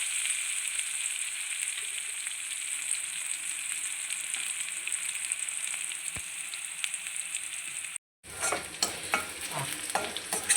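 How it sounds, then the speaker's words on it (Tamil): Garlic frying in oil in a pan until golden for a spinach kadaiyal, a steady soft sizzle that runs throughout, with a brief break near the end followed by louder stirring clatter. "பூண்டு வந்து கொஞ்சம் பொன்னேரமாக ஆகட்டும்"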